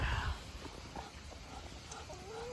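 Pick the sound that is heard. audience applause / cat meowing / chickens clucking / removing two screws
chickens clucking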